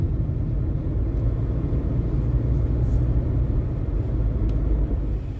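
A Renault Duster 2.0 with an older four-speed automatic gearbox drives along, its engine and road noise forming a steady low rumble from inside the cabin, with no speech.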